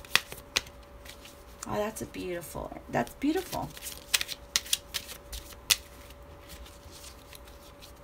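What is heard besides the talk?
shuffling tarot cards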